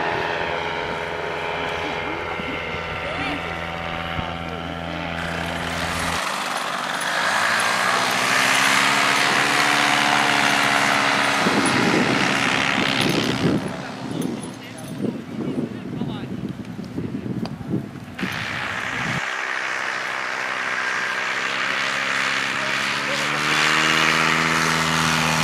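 Paramotor engine in free flight, a buzzing propeller drone with shifting pitch that swells and fades as the craft passes, loud and continuous with wind noise and occasional voices.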